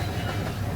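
A model freight train rumbles along in a steady, low, continuous drone for under a second, with no distinct clicks.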